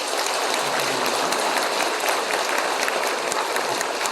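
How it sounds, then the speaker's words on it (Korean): A church congregation applauds to welcome new members, a dense, even wash of clapping that fills the whole stretch at steady loudness with no speech over it. "우리 박수로 환영했습니다."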